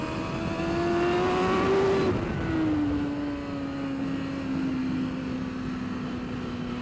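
A racing motorcycle on Bridgestone Battlax V02 tyres downshifts to third on track, its high engine note climbing then dropping sharply as revs fall, then holding a steady lower whine under wind roar.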